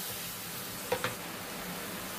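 Garlic paste and spices sizzle in a pan with a splash of water added, a steady quiet frying hiss with a couple of brief sharper spits, and no talking.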